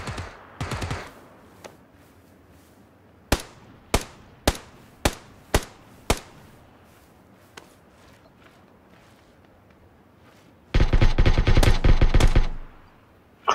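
Gunfire in the tactical shooter game Squad, coming from buildings: a few sharp, evenly spaced single shots, then a loud sustained burst of rapid automatic fire near the end, with quiet gaps between.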